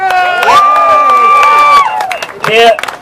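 A crowd at an outdoor COVID-19 protest in Queens Park, Toronto, cheers and claps in a loud, sustained burst that fades, then swells again briefly, with voices shouting over the noise.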